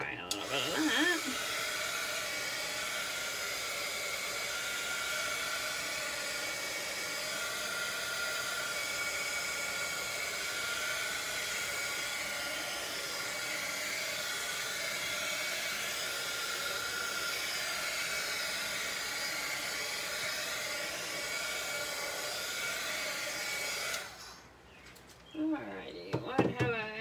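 A hair dryer blows a steady, loud, even whoosh for about 24 seconds while drying paint on a jumbo world atlas art project, then switches off, leaving brief rustling.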